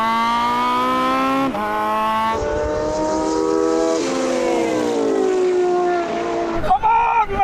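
McLaren P1, Porsche 918 and LaFerrari hypercars drag racing over the quarter and half mile, a loud sustained engine roar climbing in pitch through gear shifts, with brief breaks between gears and a sharp burst near the end.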